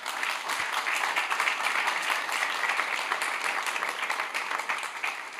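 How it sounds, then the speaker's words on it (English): A crowd applauding steadily, dense clapping sustained at an even level for several seconds. "let's give them a round of applause"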